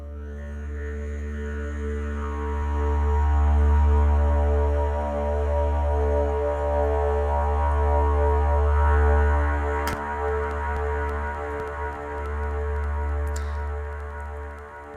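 A time-stretched sample processed with reverb and echo forms a deep, sustained harmonic drone that slowly swells and recedes, with faint airy textures and a couple of brief clicks partway through.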